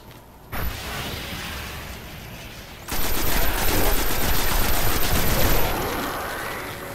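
Rifle fire in the video game Destiny, a dense, sustained rattle of shots with mechanical clatter, a short burst early on giving way to louder continuous firing from about three seconds in.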